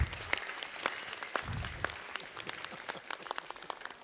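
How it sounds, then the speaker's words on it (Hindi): Applause from the audience at a one-act drama competition prize ceremony, faint, scattered claps of moderate pace heard at a distance, with low murmuring underneath. "तालियां बजाइए हमारे जज हजरात के लिए"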